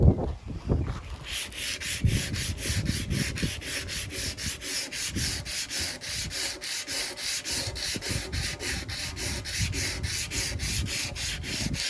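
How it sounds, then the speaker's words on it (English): Hand sanding with 180 grit sandpaper on a lawn mower part, rhythmic back-and-forth rasping strokes, steady and close, about two strokes per second, with wind rumbling underneath. "just sand any high patches down"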